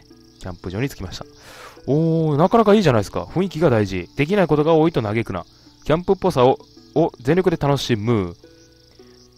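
Cicadas chirring around a campsite in the video game Margikarman ItoA, a steady high buzz running under continuous talk from a person throughout.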